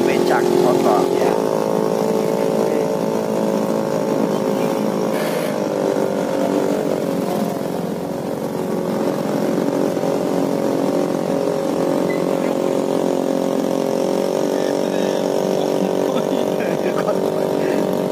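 A motorized pedicab (becak motor) engine drones steadily at night in Yogyakarta's Malioboro area, a continuous close buzzing hum with small pitch shifts throughout, while street noise carries faintly behind it.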